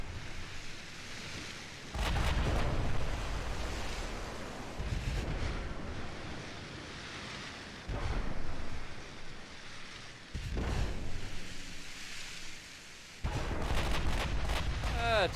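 Warship guns fire broadside after broadside in Ultimate Admiral Dreadnoughts, with several heavy booming salvos spaced a few seconds apart and rumbling decays between them. A faint voice speaks underneath.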